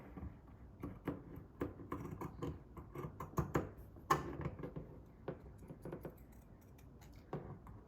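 Fabric being cut along a drawn line makes a run of close, crisp snips and rustles in an uneven rhythm. The cuts are quiet and come one after another with no voices.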